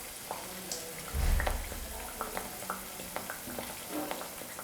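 A wheat flour snack frying in oil over a low flame, giving a gentle, quiet bubbling sizzle with a few light clicks and taps from turning the pieces, plus a brief low rumble near the start.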